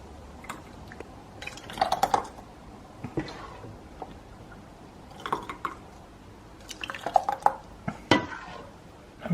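Jam ladled into glass jars through a jam funnel, with scattered clinks of the ladle against glass and soft wet pours and drips, close and moderately quiet with pauses between.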